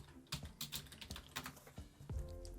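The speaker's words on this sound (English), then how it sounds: "And just by simply typing in," Fast, uneven typing on a computer keyboard in a quiet room, with dense clusters of key clicks and a few louder keystrokes and thumps, close to the microphone with no talking.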